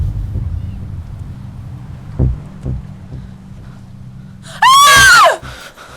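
In a Hindi horror thriller film, a woman lets out a sudden, loud, piercing scream lasting about half a second, cutting through a low, windy rumble and a few soft thuds.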